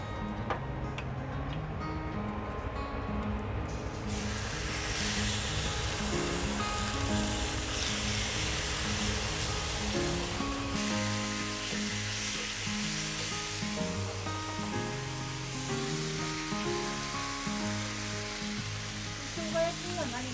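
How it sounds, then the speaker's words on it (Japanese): Slices of ginger pork (shogayaki) fry in a pan with a steady crackling sizzle, joined partway through by a rhythmic tonal pattern, while a voice speaks faintly underneath. "生姜焼きを焼きます。"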